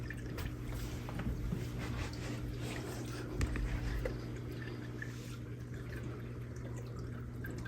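Liquid plant food poured through a funnel into an AeroGarden indoor hydroponic unit, a steady soft trickle and splash of liquid running continuously at close range with a faint background hum.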